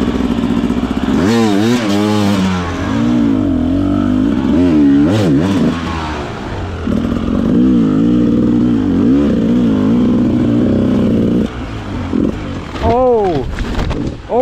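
Trail motorbike riding off road, engine repeatedly revving up and down in rising and falling swells, loud and close, with people talking over it.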